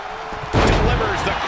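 A wrestling arena crowd roars during a Cody Rhodes tag match, a dense, steady wash of cheering that swells after a sharp slam, with a commentator talking over it.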